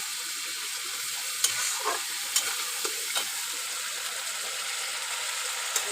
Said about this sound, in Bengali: হলুদ গুঁড়ো দিয়ে দেবো দু চামচের মতো ভালো করে আমি কষিয়ে নেব